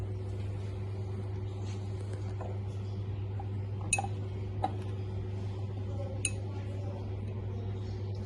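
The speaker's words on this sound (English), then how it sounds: "and then I will be stirring it again." Soft glassy clinks from stirring a chemical solution in a glass, a few light taps scattered over a steady electrical hum in a quiet room.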